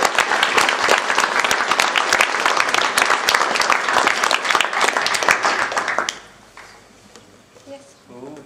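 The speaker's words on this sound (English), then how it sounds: "can we just get a big round of applause for all the team for organising and helping out?" Audience at a pitch event applauding the organising team: dense, loud clapping from a crowd for about six seconds, then fading out into quiet murmuring and a few voices.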